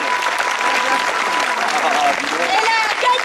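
An audience applauds the young winner of a drawing contest at a live comedy show, dense loud clapping with crowd noise while voices talk and call out over it.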